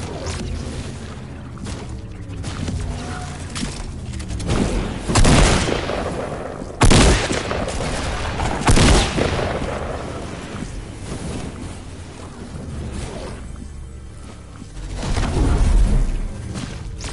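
Shotgun blasts go off in Fortnite Battle Royale gameplay, several loud sharp booms spaced apart among game noise and music, with a player speaking briefly.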